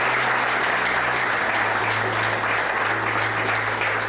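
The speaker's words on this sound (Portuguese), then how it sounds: "peço realmente uma salva de palmas" A round of applause from attendees at the inauguration ceremony of a care home, dense, even clapping that stays loud and unbroken from start to finish, with a faint low hum beneath.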